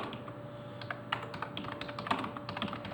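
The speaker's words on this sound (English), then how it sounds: "And start typing." Fingers typing on a computer keyboard to enter a title in video editing software, a steady, close stream of quick key taps and occasional louder strokes, continuous with no voices.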